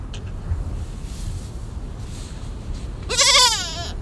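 Goats bleat aboard the iron-ore freight train crossing Mauritania, one loud wavering bleat rising over a steady rumbling, windy train noise after several seconds of just the rolling din.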